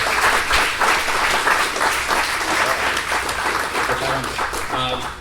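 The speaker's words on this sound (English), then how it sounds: "Let's give a round of applause for Doug in the shed" Audience applause at a presentation on soil, a steady wash of many hands clapping throughout, loud and sustained, with a few voices mixed in near the end.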